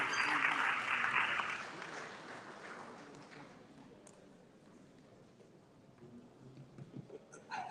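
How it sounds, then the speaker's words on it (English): Audience applause at a symposium of the Knights of St. John International, a burst of clapping for the first second and a half that thins out and fades under a murmuring hall. "Let's give a round of applause."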